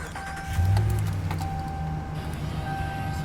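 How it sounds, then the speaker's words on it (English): A 2016 Ram 1500 Sport 4x4 pickup starts with the ignition key: a low rumble kicks in and settles into a steady idle, with faint chime tones sounding over it. "I'm going to step up and into the vehicle and turn it on by putting the key in the ignition"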